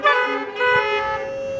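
Car horns toot at a church blessing of the animals: a loud honk, a brief dip, then a second long blast overlapping it, heard close and fairly loud.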